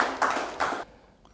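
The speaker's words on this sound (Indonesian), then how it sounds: "tepuk tangan dong teman-teman nih" An audience breaks into applause at a special celebration of IPSI's 74th anniversary, two short bursts of clapping that fade after under a second.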